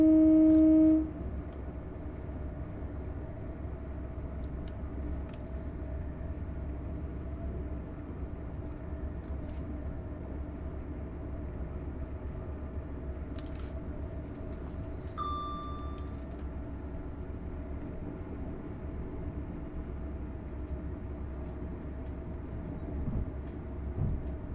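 A Class 800 train in Train Sim World climbs a 1 in 139 incline on the South Wales Main Line at full throttle, giving a steady, continuous low rumble and drone that holds even throughout, with no talk over it.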